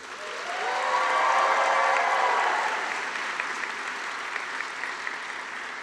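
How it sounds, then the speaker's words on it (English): Sustained audience applause at a medical school white coat ceremony, swelling to a loud peak then settling into steady clapping from a large crowd, with a brief tonal sound near the start. "And a round of applause for all of the people who helped you get to this day."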